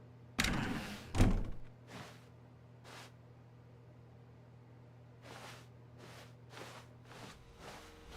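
Door sounds from The Stanley Parable: two sharp, loud thuds close together, then a series of softer, evenly spaced swishes and clicks over a steady low hum.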